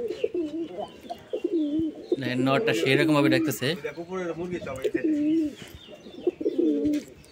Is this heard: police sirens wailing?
no